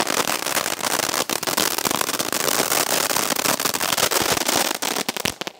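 Deepavali firecrackers burst in a dense, rapid string of sharp cracks and pops, loud and close throughout, with a few heavier bangs near the end.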